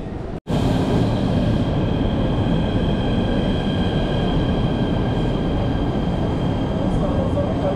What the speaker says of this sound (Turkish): Şimdi trene bineceğim.